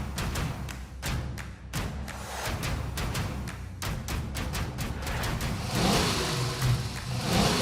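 Electric car accelerating on the Bristol drag strip, a fairly quiet rising whine and rush of road and wind noise with occasional thumps, building steadily louder toward the end with no talking.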